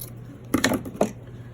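Scissors trimming yarn for a Halloween bag topper craft, three quiet crisp snips close to the mic.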